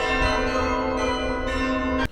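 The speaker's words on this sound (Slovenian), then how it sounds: "Zdaj bomo vsak caj slišali z tega zvonika." Church bells ring from a bell tower, their bright tones sustained and overlapping in a dense, steady peal that carries clearly before cutting off abruptly at the end.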